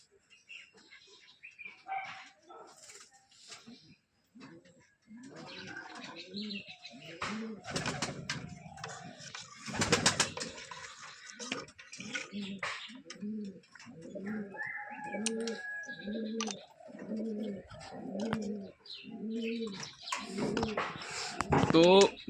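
Domestic pigeons in a backyard loft coo in a steady series of soft, throaty, repeated calls from close by, while people talk intermittently over them.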